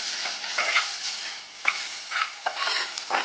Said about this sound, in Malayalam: ചേർത്ത് നന്നായി ഇളക്കാം.